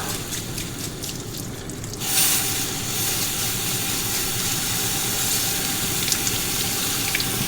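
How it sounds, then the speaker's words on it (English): Cold tap water gushes steadily over drained pasta in a kitchen sink, starting abruptly after a quieter moment and running as a loud continuous hiss. "I'm going to give that a rinse with some cold water."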